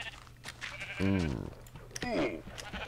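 Sheep bleating in Minecraft beta 1.6.4, two wavering bleats close together, the first louder, with a brief exclamation from a player and faint background game noise.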